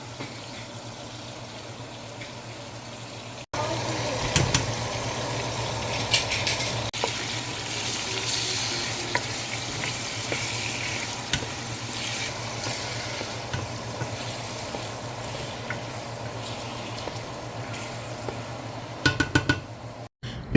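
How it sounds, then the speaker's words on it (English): Chopped tomatoes fry in a pot for a seafood okra stew, a quiet start giving way to a steady close sizzle with occasional clinks and scrapes of stirring, a cluster of taps near the end. "After stirring for 5 minutes, I'm going to throw in my tomatoes"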